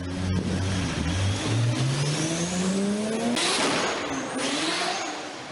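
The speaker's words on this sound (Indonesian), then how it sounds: "suara mobil inline 4 yang bisa menghasilkan suara kayak gini" An inline-four car engine revs hard, pitch climbing steadily through the gears, loud and near, then easing off as it fades slightly.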